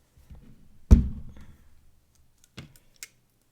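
Cutters snip off the end of a swirl ornament hanger wire with one sharp close snap, followed by a few faint ticks and small clicks in a quiet room.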